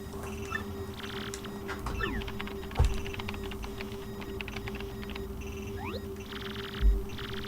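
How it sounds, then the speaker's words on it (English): Princess Peach types on an old-school computer keyboard in Paper Mario: The Thousand-Year Door, a run of small game clicks and blips over a steady background hum, with two soft thumps. "See, Peach knows how to use a keyboard."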